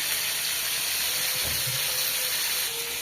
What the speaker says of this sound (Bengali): চিকেন ভাইজে নিচ্ছি সুন্দর করে